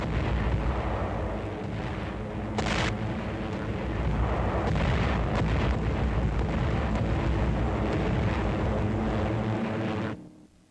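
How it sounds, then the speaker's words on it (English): Royal Air Force bombers flying over the port city of Brest to bomb the Nazi U-boat base, a dense, continuous roar of aircraft engines with booming explosions, loud and sustained before cutting off abruptly near the end. "planes of the Royal Air Force fly over the beleaguered port city of Brest to bomb the vital Nazi"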